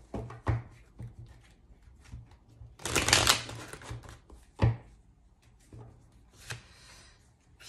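Tarot cards are shuffled and drawn at close range, with a loud riffling burst in the middle and scattered soft taps and card slaps around it.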